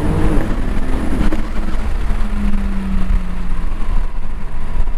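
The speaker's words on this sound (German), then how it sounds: "ich gebe mal einfach Gas." Corrado R32 Bi-Turbo with DSG gearbox accelerating, a loud, close engine roar with a rising tone and a low rumble, heard alone and steady throughout.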